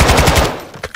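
A rapid burst of automatic gunfire in the video game Modern Warfare 2 sounds loud and close, with a fast run of shots, then a fading tail and a couple of sharper single reports at the end.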